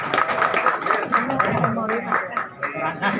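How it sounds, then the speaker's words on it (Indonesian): Audience clapping at a Silingawi veterans' gathering marking a 101st anniversary, a steady patter of hands close by with voices talking over it throughout. "Tepuk tangan."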